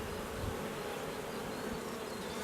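Honey bees buzzing around an opened hive, a steady dense hum of many insects close by, quiet and continuous with no talking.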